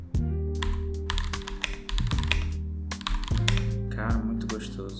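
Typing on an Akko 5075B Plus V2 mechanical keyboard with Dracula Yellow Cream switches: soft, steady keystrokes in quick bursts, close and clear, over continuous background music.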